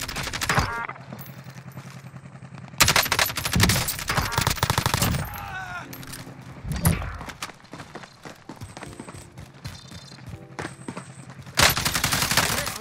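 Machine gun fire from an AUG in Call of Duty Warzone crackles in loud, close bursts that stop and start, separated by quieter stretches with footsteps and clatter.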